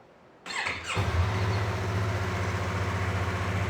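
A nearly new 2020 Yamaha MT-03 motorcycle with 1,100 km and a stock exhaust catches after a short burst, then settles into a steady, low, close idle that holds to the end.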